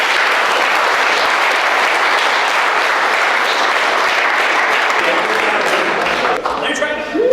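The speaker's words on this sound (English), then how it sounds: "So give Tanner a round of applause" Dense, loud applause from a group honoring a team member named Tanner, sustained for about six seconds before tapering, with voices starting up at the close.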